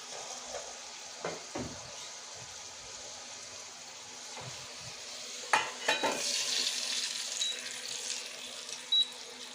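Potatoes frying golden in oil in a pan, a soft steady sizzle broken by a few scraping and clinking utensil sounds as they are lifted out.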